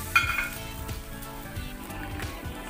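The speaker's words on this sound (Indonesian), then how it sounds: "minyaknya udah panas, langsung kita tuang bumbunya" Spice paste poured into hot oil in a pan for shredded chicken with basil, giving a steady, close sizzle and frying hiss with a faint clink of utensils.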